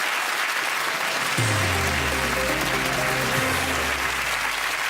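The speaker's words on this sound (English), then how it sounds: "a big round of applause for Neil." A studio audience on a game show claps steadily in a dense, even wash of applause that lasts throughout, with a low musical sting entering partway.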